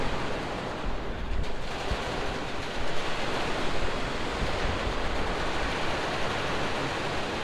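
Water surges and crashes against the hull inside a partly dismantled ship at a ship breaking yard, a loud, continuous roaring wash that fills the space with a steady broadband rumble and no talk.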